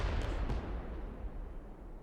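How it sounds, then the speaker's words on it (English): Explosion in the Nancy Drew: White Wolf of Icicle Creek video game: a deep, rumbling blast with heavy low boom, a couple of sharp cracks near the start, then a long, roaring decay. "Sounded like an explosion."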